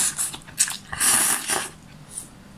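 Someone bites into and chews meat up close, giving a few wet crunching bites and squishy chewing sounds in short bursts over a quiet background.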